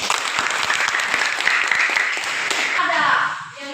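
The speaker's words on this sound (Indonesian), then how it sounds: "maka tepuk tangan untuk kita semua." Students in a vocational school classroom clap together in a lively burst, many hands at close range, sustained for about three seconds before fading as voices rise over it.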